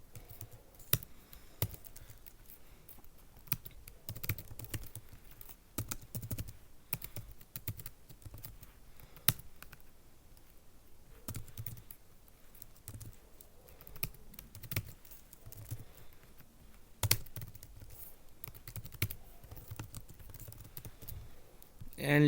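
Computer keyboard typing while writing styling code for a React micro frontend app, with scattered, moderately quiet key clicks in irregular bursts throughout.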